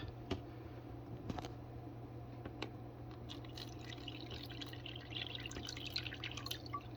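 Water poured into a tarantula's water dish, faint small drips and trickles over a quiet steady background hum, close and soft.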